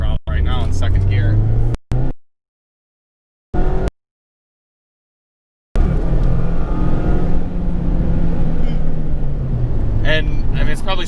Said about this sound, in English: I'll go full throttle right now in second gear.